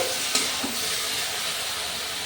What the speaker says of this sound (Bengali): দেখুন আমার ঝুঁড়ে ঢেঁড়সটা অলরেডি ভাজা হয়ে গেছে